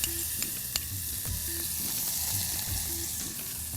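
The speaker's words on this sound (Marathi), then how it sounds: "एक चमचा बटरवरती आपण तीन चमचे बारीक चिरलेला लसूण घातलेला आहे आणि एक छोटी वाटी आपण बारीक चिरलेला कांदा घातला आहे" Finely chopped garlic and onion fry in a spoonful of butter in a pan, giving a steady close hiss and sizzle with occasional stirring scrapes and no talk.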